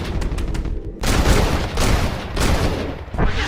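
Gunfire in the Western game Red Dead Redemption, a loud fusillade of overlapping shots with sharp cracks and booming reports, several quick bursts back to back, with brief shouted voices among them.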